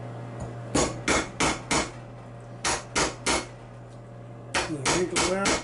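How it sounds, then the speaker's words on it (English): A Bonny Doon polyurethane hammer strikes a copper bracelet in groups of three or four sharp, close blows with pauses between them. "Use my Bonny Doon polyurethane hammer."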